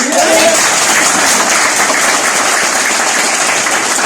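Loud, dense audience applause fills the whole stretch, a steady wash of many clapping hands at a DXN business gathering, with a brief voice at the start.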